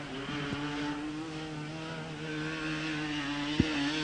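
A racing sidecar motorcycle engine holds a loud, steady high drone at a speedway, with a brief sharp revving blip near the end.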